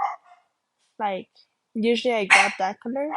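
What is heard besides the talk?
dogs barking in the background at home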